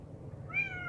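A pet cat in a winter garden lets out a single short, rising meow, close by and clear over faint background noise.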